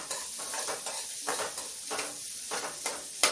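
Onions frying in a pan for a bende kayi (okra) palya, a continuous close sizzle broken by repeated spatula scrapes and stirs, ending with a sharper clink.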